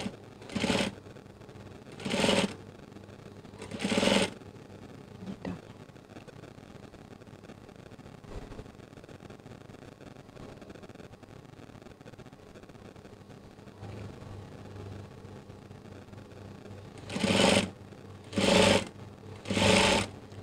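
A sewing machine stitches curtain fabric for a skirt-style valance in three short bursts near the start and three more near the end, with a quiet room hum between.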